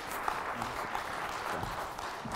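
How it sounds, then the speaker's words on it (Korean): Dense, steady applause from a church congregation welcoming missionary Kim Min-ho fills the whole moment at an even, moderately loud level. "우리 김민호 선교사님 나오실 때 우리 뜨거운 박수로 환영해"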